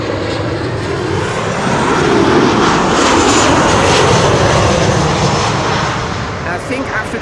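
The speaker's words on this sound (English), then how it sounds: "Transavia is landing." A Transavia airliner landing on runway 06 at Amsterdam Schiphol, a loud, continuous jet engine roar that swells and holds close by, with people talking underneath.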